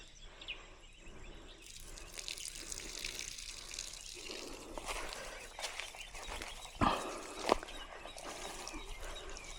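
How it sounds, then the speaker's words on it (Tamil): Water runs slowly and steadily from a low-flow tap with a soft hiss, joined by a few splashy clunks partway through, fairly faint and close. "பாருங்களேன். தண்ணி இவ்வளோ ஸ்லோவாக வருதா?"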